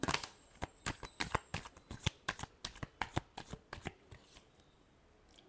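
Tarot cards are shuffled by hand in a quiet room, a rapid run of crisp flutters and taps close up that gradually slows and fades, with no talk.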